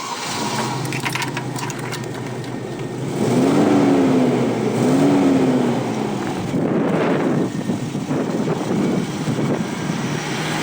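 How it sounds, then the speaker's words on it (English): An LDV camper van V8 engine turns over and settles into a steady low running drone, with two brief revs rising above it midway, heard close and alone. "I'm just going to start it up so you can hear the sound of the engine"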